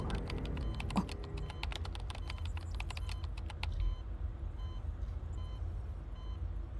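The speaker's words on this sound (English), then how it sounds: "The furious typing sounds almost like a sudden downpour." Rapid, dense keyboard typing clatters for a few seconds, then stops abruptly, leaving a low steady hum.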